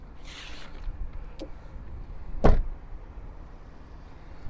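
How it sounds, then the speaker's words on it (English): Opening the door of a 2024 Lexus TX gives a faint click, then a single sharp latch clunk, with a soft rustle before it and quiet interior ambience afterward. "push the door open."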